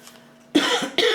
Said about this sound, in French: Entre les clims et tout, hein, on fait que tousser.